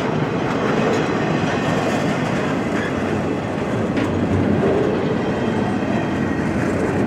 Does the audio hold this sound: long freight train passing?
yes